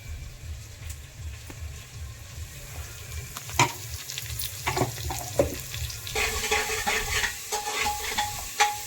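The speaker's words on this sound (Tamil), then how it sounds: "எண்ணெயிலே போட்டு வதக்கலாம்." Onions sautéing in hot oil for chicken biryani give a steady close sizzle and crackle, with a few sharp clinks and scrapes of a stirring spoon against the pan, and no voices.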